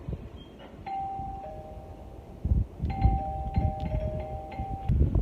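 An electronic doorbell chimes twice with sustained two-note tones, over some background clatter and rustling.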